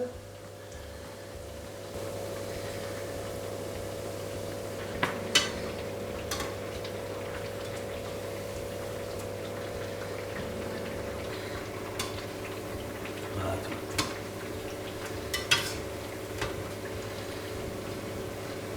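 Churros deep fry in an electric fryer over a steady low hum, with a faint bubbling hiss and a few soft clicks and taps, and no voices.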